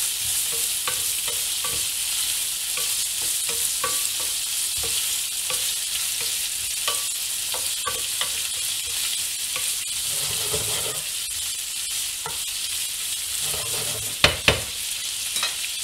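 Bacon and pasta being stirred in a frying pan while making macaroni with tuna and bacon, a steady close sizzle with scraping stirs throughout and a sharp clatter near the end.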